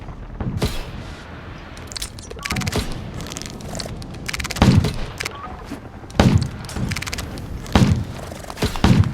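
Gunfire in the Undawn video game, shooting at the player, comes as repeated heavy thumping bursts with irregular pauses, loud and close throughout, in a desert mission setting.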